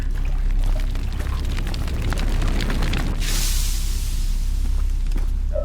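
Water poured from a pot in the Indian horror video game Kamla: low rumbling movement, then a sudden loud rushing splash of pouring that fills the second half.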